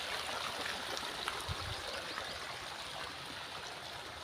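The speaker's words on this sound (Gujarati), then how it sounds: "અહીંયા પાણી મોટર ચાલુ છે" Water from a running pump motor flows steadily among trees at a cremation ground, a continuous close rushing wash with no break and no voices.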